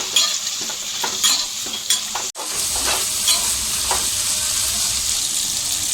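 Chopped vegetables and green peas sizzling in oil in a pan for veg pulao, a close, steady frying hiss broken by repeated scraping stirs of a spoon, with a brief dropout midway and no talk.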